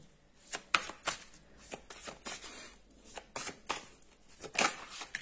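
Tarot cards are drawn and turned over, giving a quiet run of crisp flicks and soft slaps spaced irregularly, close and alone.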